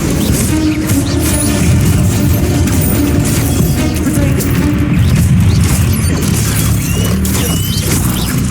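Fiery spell blasts and crashing impacts in the Hogwarts Legacy video game, with the Incendio fire spell cast amid dense, continuous combat noise, loud booms and smashes layered throughout.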